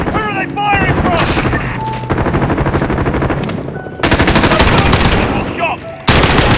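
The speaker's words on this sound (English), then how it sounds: "Where are they firing from?" Dense automatic gunfire fills a Call of Duty Modern Warfare firefight, rapid bursts hammering loudly and almost without pause, with shouted voices mixed into the din.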